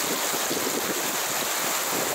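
Floodwater rushes as a torrent down a street in Três Lagoas after heavy rain, a steady, loud, broadband roar of churning water that continues without a break.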